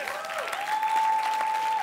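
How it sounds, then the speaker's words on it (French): A church congregation applauds continuously, a dense, steady patter of many hands clapping at moderate volume, with a sustained tone running underneath. "Donnons un bonne applaudissement au Seigneur pour ça."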